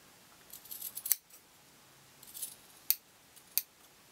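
Scissors snip through fabric, cutting small triangles at the corners of a change purse: a few quiet, close, crisp metallic cuts spaced across a near-silent background.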